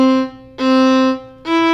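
Violin notes bowed long and sustained instead of short and detached, three held tones with a brief dip between them, played alone and close.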